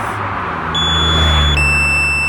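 A DJI Mini 4K drone sounds its alarm in flight, steady high electronic tones that shift pitch partway through, over the low continuous hum and whine of its rotors close by.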